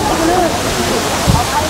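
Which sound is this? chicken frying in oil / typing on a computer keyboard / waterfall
waterfall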